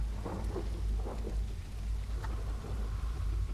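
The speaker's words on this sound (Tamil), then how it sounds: "ஆமாம், மழை பெய்யுது." Steady rain pours throughout a video game scene while rolls of thunder rumble low and continuous beneath it, with no voices over the storm.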